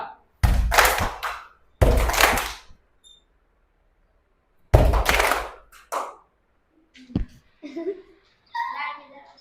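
A ball bounces on the ground at a school summer camp game, each thud answered by a burst of children's clapping; about three loud bursts of claps, then scattered softer taps and young voices talking nearby.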